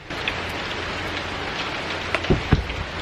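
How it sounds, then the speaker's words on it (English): Heavy rain falls outdoors as a dense, steady hiss of drops on surfaces, with a few louder close splats and knocks near the end, no voices. "The rain's getting bad."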